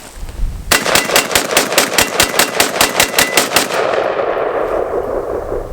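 A rifle magazine emptied in rapid fire at steel targets on a short-range outdoor range: about fifteen sharp, evenly spaced shots in a quick steady rhythm, loud and close, followed by a fading ringing tail.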